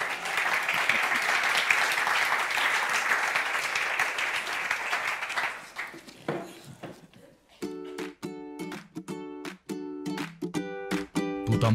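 Applause from a conference audience at a municipal solar self-consumption congress, a dense clapping roar that fades out after about six seconds, followed by rhythmic music-like tones.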